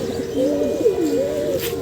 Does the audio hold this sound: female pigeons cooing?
yes